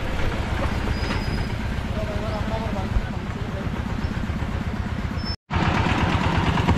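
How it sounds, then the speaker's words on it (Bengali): A motorized engine van's motor rumbles steadily and close by as it crosses a bridge, with a rattling, chugging texture, continuing almost without pause apart from one abrupt cut. "একটা গাড়ি যাচ্ছে ইঞ্জিন ভ্যান, তাতেই পুরো ব্রিজ ভর্তি হয়ে গেছে"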